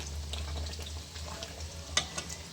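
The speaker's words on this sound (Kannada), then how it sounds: "ತೆಂಗಿನಕಾಯಿ ಅದ್ರದ್ದು ಹಾಲು ಹಾಕುತ್ತಾ ಇದ್ದೀನಿ" Coconut milk poured into Andhra-style chilli chicken gravy sizzling in a pan: a steady close frying hiss with soft stirring, and a brief sharper spatter near the end.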